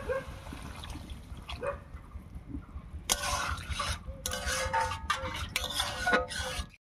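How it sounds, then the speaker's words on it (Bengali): Water pours into lau ghonto, a bottle gourd curry simmering after its spice paste was fried; a broad splashing, bubbling rush comes in bursts over a low kitchen background. "এবার একটুখানি জল দেব।"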